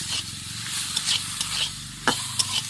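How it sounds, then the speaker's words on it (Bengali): Eggplant fries with neem leaves in a pan, a close, fairly quiet sizzle and hiss broken by a few brief scraping stirs. "এবার লাড়াচাড়া করে আমি নিম বেগুনটা ভেজে নেবো।"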